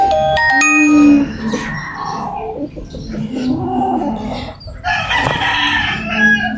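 Chickens cluck and a rooster crows amid rustling outdoor background noise, with a burst of higher calls near the end.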